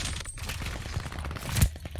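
Gunfire in the video game Call of Duty: Vanguard: a rapid series of sharp cracks and bursts, with one heavier blast near the end.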